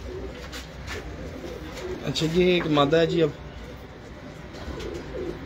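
A pigeon in a home loft gives a short rolling coo in the middle, while someone talks nearby before and after it.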